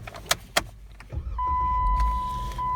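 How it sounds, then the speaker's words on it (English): A 2018 Jeep Wrangler JK Unlimited Sport turning on: a few clicks and thumps, then the engine cranks and catches into a steady idle, heard close with a thin electronic chime tone over the rumble. "Gonna go ahead and turn the vehicle on so you guys can hear it start up."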